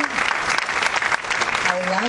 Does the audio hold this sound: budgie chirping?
no